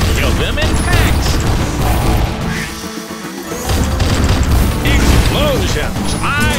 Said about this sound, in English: Explosions. I like the explosions.